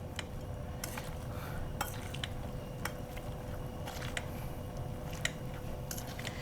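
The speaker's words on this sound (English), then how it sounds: "We're gonna smash our carrots." Braised carrots being smashed in a pot of cooking sauce for short ribs, heard as soft scattered clinks and scrapes of a utensil against metal over a quiet, steady kitchen hum.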